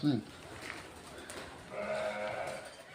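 Sheep bleating in a couple of wavering calls, a short one at the start and a longer drawn-out bleat later, amid faint background noise.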